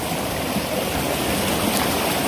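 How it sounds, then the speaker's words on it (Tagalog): Water of the Pilemon River on the Dinagat Islands rushes steadily and close by, a broad continuous wash with no break and no voices over it. "Guys, ilog pala to guys,"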